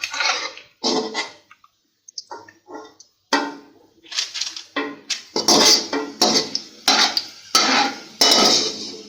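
Golden-brown fried onions are scraped from a pan onto a plate, with repeated close metal scrapes and clinks of utensil against cookware, bursts coming faster toward the end, and no voices.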